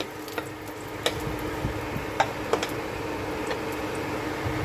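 Cardamom pods fry in hot oil in a kadai for a poha pulao, a continuous soft sizzle broken by a few sharp clicks and scrapes of stirring.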